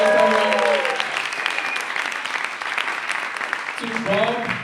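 Audience applause fills a festival hall with dense, steady clapping from a large crowd, and a voice speaks briefly at the start and end.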